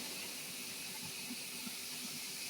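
Onions frying in oil over a high flame: a steady, dense hiss and sizzle that stays constant throughout, with faint low stirring bumps underneath.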